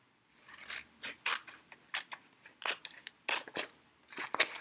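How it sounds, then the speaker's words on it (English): Scissors slicing through a sheet of paper to trim it to length, a series of crisp rasping snips in irregular bursts, close and fairly quiet with no voices. "Now I'm gonna cut my paper so that I have my perfect 8 inches."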